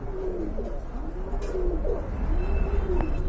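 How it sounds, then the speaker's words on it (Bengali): A female pigeon coos to a male in a steady series of close, rolling calls, repeated with a gentle rising and falling rhythm over faint background noise. "এই যে দেখেন মাদি কেমন করে নরে ডাক দিলেই"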